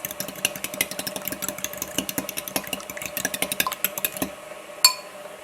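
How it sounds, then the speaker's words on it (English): A fork rapidly whisks egg yolks with vanilla in a bowl, a fast rhythmic ticking clatter of many quick strokes that stops near the end, followed by one louder knock. "It doesn't need to be perfectly whisked together. Just kind of break up the egg yolks."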